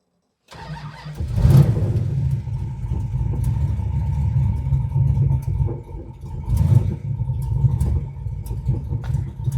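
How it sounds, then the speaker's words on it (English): A 1967 Dodge Coronet R/T's 440 V8 engine with a lumpy cam cranks and fires up, then settles into a loud, lumpy idle with occasional revs, heard close by. "quick video of start up and idling"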